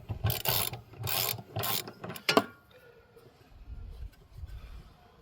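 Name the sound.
spinner socket loosening caravan hot water system anode rod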